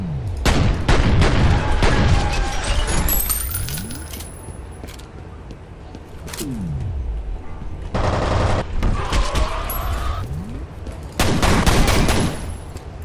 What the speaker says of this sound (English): Shooting enemies had that ripping paper noise